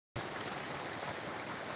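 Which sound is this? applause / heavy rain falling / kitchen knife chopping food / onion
heavy rain falling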